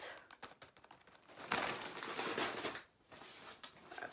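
A large plastic packet crinkling and crackling as it is handled, close and busy, with dense rustling bursts that swell in the middle before easing off, with no one speaking.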